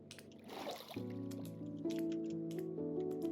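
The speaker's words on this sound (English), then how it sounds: "Are those water drips that I'm hearing?" Soft water drips plink in a quiet Minecraft ocean monument scene, set against sustained synth tones and a low ambient hum.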